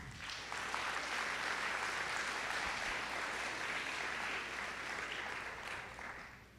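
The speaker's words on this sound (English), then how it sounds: "And let's give them a round of applause." Applause at a community college fall convocation, a sustained wash of clapping from a large audience lasting several seconds and fading slightly at the end, with no talk over it.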